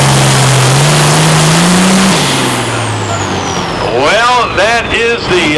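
Hooked-up pulling tractor in the 9,300 lb class at a Hillsboro, Wisconsin pro pulling event, engine roaring loud and steady with a rising pitch, then a rough, pulsing load toward the end, with an announcer talking over it.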